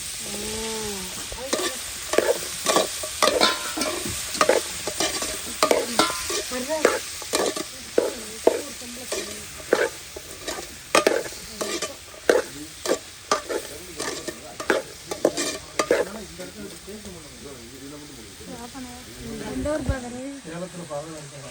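Meat and potatoes sautéing in a pan, with steady sizzling and repeated scraping stirs throughout and people talking over the cooking.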